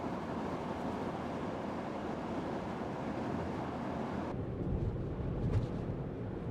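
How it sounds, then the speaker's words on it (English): Inside a Ford Mustang Mach-E RWD Extended Range at 100 km/h on the highway into a headwind, a steady broadband rumble of road and wind noise fills the cabin, deepening slightly near the end. "we are driving on the highway 100 kilometers per hour on GPS,"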